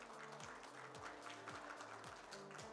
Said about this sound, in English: can we have those claps coming, please?